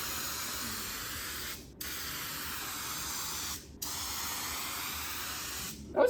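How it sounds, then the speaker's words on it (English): A spray can of paint hisses in three long, steady bursts onto car door panels for a budget E36 328ti drift build, each burst loud and close with brief pauses between. "this thing just sprays way too fast"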